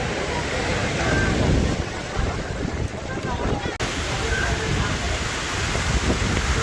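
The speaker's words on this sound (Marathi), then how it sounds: "वारं कसं सुटलंय आई शपथ." Strong wind gusts blowing steadily outdoors in a village ahead of a sudden downpour, a broad continuous roar buffeting the microphone throughout with no clear speech.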